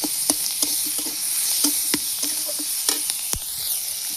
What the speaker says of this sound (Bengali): এখন দিয়ে দিচ্ছি পেঁয়াজ কুচি আর কাঁচা লঙ্কা। এগুলো দিয়ে আমি খুব সুন্দর করে ভেজে নেব।